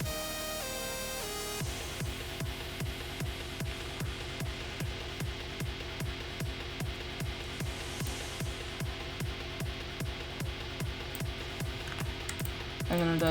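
A self-made brostep drop built from the same basses, with pounding drums on a steady beat under growling, wobbling synth bass, preceded by a short synth riser. The track plays loud and continuous throughout.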